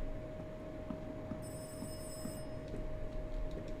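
In the psychological horror game Rise of Insanity, an old-style telephone sounds one short, bright ring burst partway through, set against a steady droning hum and faint ticking, quiet and without voices.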